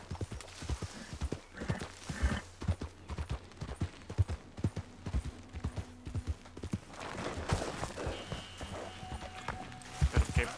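Horse hooves clip-clop at a walking pace in Red Dead Redemption 2, a repeated close rhythm of hoofbeats over ambient game sounds, with a brief whinny-like sound.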